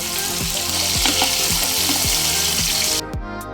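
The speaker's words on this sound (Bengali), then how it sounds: "চিংড়ি মাছ খুব বেশিক্ষণ সময় ধরে ভেজে নিলে চিংড়ি মাছ শক্ত হয়ে যায়" Prawns frying in hot oil give a steady, loud sizzle, with regular low knocks of a spatula against the pan about once a second; the hiss cuts off sharply near the end.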